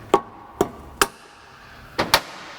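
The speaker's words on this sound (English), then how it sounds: "I'm starting with a rubber hammer or plastic." A rubber or plastic hammer taps a bearing cup on a Ford 8.8 axle, giving five sharp, close knocks, the first three evenly spaced and the last two in a quick pair.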